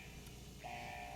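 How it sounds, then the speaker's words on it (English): An alarm in HBM's Nuclear Tech Mod, a Minecraft mod, starts partway through as a steady electronic tone over low background hum. "That's the alarm."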